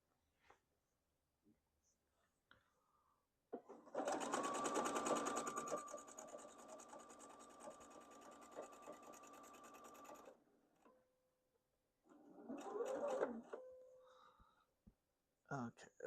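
A sewing machine stitches a quilt top in a fast, steady whirring run of several seconds, then a shorter burst later, with quiet pauses, small clicks and handling noises between.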